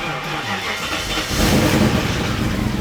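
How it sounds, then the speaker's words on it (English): Classic BMW car on an old battery, its starter whirring briefly before the engine catches and bursts into a louder, rough running idle close by, no voices. "will the car actually start on the old battery?"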